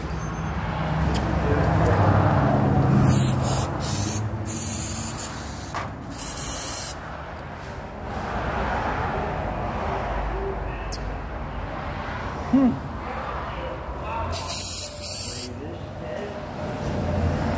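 Electrical cleaner sprays onto a car throttle body in short hissing bursts against background engine noise, with voices speaking between them.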